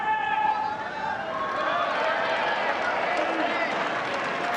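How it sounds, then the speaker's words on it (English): Wimbledon tennis crowd cheering and clapping for Harriet Dart during her match against Katie Boulter, a steady, dense wash of applause and crowd noise with a bright, even roar throughout. "You can hear the Harriet dart fans."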